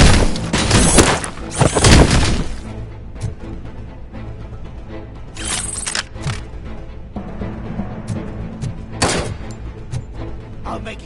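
Gunfire in the video game Bleach Rebirth of Souls: a heavy opening flurry of loud shots, then scattered sharp bursts over a lingering rumbling background.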